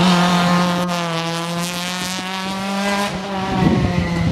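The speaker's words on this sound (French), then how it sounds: "Rallye à moteur central." A mid-engine rally car at the Vernègues rally roars past close by, its engine note holding high and loud before shifting and fading, with tires scrabbling on the stage.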